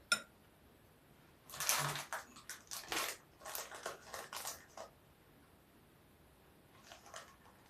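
Dry chocolate sponge cake ingredients with baking soda being stirred together in a bowl, a quiet run of gritty scraping and light clinking strokes, followed by a pause and a few more faint scrapes.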